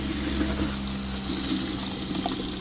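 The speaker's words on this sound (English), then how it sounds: "that water pump puts out" Water gushes steadily from a faucet in a box van, pumped through the water heater, with a constant hum of the water pump running underneath, loud and continuous.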